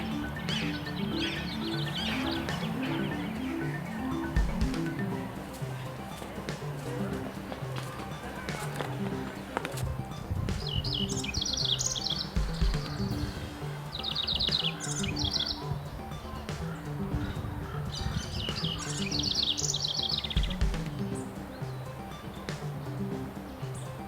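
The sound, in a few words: songbirds calling, finches and sparrows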